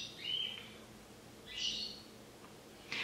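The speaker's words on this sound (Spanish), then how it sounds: "Los pájaros no paran de cantar." Birds singing outside a window, a few clear high whistled phrases with quiet pauses between them, faint and somewhat distant.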